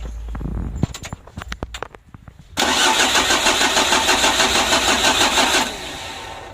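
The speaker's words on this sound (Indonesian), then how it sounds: "Ini baterainya ngedrop, jadi kita coba dulu ya. Kita starter." A 2010 Mitsubishi L300 with a 4D56 diesel engine on a weak, jumpered battery, heard first as loud clattering clicks and fumbling, then a steady grinding crank on the starter motor for about three seconds before it cuts off.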